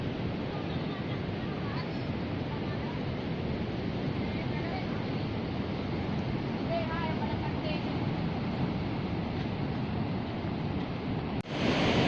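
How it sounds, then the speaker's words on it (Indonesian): Big ocean waves crash and roar steadily onto Pantai Penyu beach in Banda Aceh, a loud continuous surf wash with wind buffeting the microphone, ending in a brief knock near the close. "Ombaknya sangat besar."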